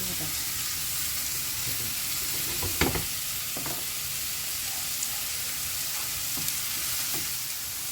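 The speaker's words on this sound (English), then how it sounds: "We're just going to continue fry them a little bit more" Mushrooms fry in olive oil with a constant broad sizzle, close and even, punctuated by a few soft stirring knocks and scrapes.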